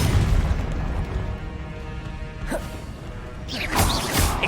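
A Confringo blast spell explodes in the Hogwarts Legacy video game, a loud rumbling boom with a sharp crackling burst near the end over steady low roar; no talking.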